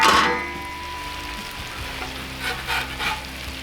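Bacon-wrapped filet mignon sizzles loudly on a Cuisinart 360 griddle with both burners on low, a close, continuous frying hiss with a few brief clinks of utensils and no speech.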